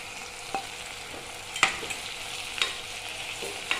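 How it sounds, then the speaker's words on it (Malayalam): Chili powder gets sautéed with spices and curry leaves in a pan for a coconut-free theeyal: a continuous soft frying hiss with a few sharp spoon taps and scrapes against the pan. "മുളക് പൊടി ചേർത്ത് കൊടുത്തിട്ട് അതൊന്ന് വയറ്റി കൊടുക്കുക"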